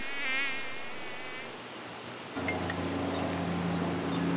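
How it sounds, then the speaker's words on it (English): A mosquito buzzes close by in a wavering whine that fades out, followed by a steadier, lower hum through the remaining seconds. "Mosquito!"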